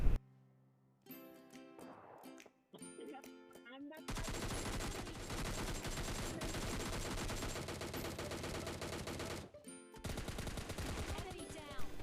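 Gunfire in PUBG Mobile Lite, with a few short opening bursts followed by long, sustained automatic fire that runs almost unbroken, close and harsh, briefly cut off near the end before resuming.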